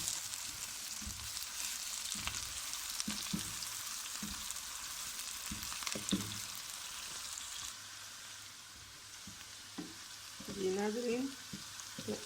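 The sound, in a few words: onions frying in a pan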